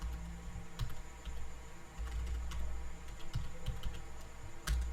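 Steady typing of JavaScript code on a computer keyboard, soft close key clicks at an uneven pace with a few louder taps, no voices.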